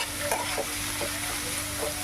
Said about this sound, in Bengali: এখন আমি পেঁয়াজটাকে হালকা ভেজে নেব।